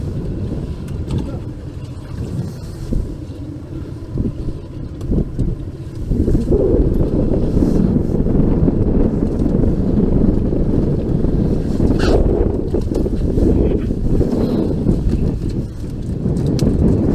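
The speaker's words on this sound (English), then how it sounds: "right now the motor is running and it's scaring the bait." A fishing boat's outboard motor runs steadily under heavy wind buffeting the microphone on a rough, windy day on the water, the low drone growing louder about midway.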